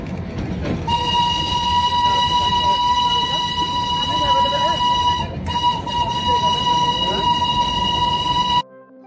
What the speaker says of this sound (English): Shortly, another steam train passed through the loop.